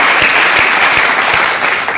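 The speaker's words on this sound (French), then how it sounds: "Je veux qu'on applaudisse Bobo Dioulasso encore." A theatre crowd at a French-language comedy café show claps loudly and steadily, a dense sustained wave of applause with no break.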